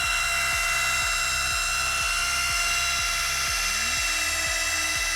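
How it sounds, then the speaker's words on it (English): A polisher at low speed works oxidation and spent gel coat off a boat hull with Marine 31 heavy oxidation compound, a steady whirring drone with a rhythmic wobble pulsing about twice a second. "Letting the polisher itself with the material work all that oxidation off the surface"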